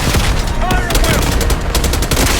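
Dense gunfire crackles in the Call of Duty Black Ops 6 campaign as a squad storms a palace gate, loud, rapid overlapping bursts with a voice briefly under the shots.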